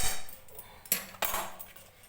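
A spoon stirs kheer mixture in a pan, giving a few light metallic scrapes and clinks at irregular intervals, close and fairly quiet with no talking.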